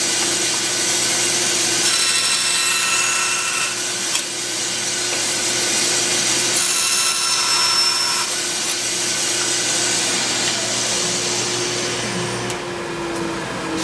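A bandsaw cuts off a wooden piece for a display case, giving a steady loud whine with a constant motor hum that runs almost the whole length before winding down near the end.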